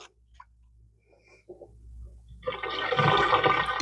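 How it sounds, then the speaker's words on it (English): Water drains from a kitchen sink after leafy greens are rinsed: quiet at first with a few faint knocks, then a loud gurgling rush builds and fills the last second or so. "Let the water drain. I don't want those leaves down my drain"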